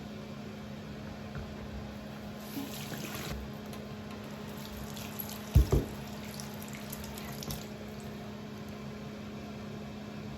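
Water runs and splashes while soap is rinsed out of cast sterling silver, a faint steady trickle under background hum with a couple of brief clinks midway.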